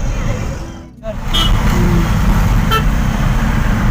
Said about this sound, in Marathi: मुंबईचं ट्रॅफिक बघा हलत नाही आहेत गाड्या